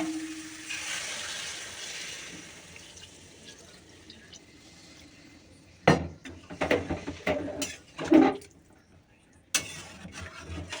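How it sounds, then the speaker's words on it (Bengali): Water pours into a pot of cauliflower, egg and potato curry with a brief rushing splash, followed by scattered clanks and knocks of pots and utensils in a home kitchen, with a voice faintly in the background. "ফুলকপি আরেকটু হলে ভালো হতো কিন্তু ফুলকপি ছিল না জল দিয়ে দেবো"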